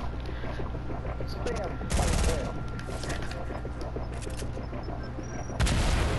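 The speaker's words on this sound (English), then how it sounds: "Oh, that's a grenade." A grenade blast in the Fortnite video game, heard as two short, loud bursts of explosive noise over a steady game background, the second near the end.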